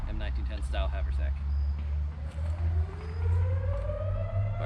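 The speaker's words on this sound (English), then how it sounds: "Pardon the air raid siren." An air raid siren wails in the distance, its pitch sweeping up and down, while someone talks steadily over it.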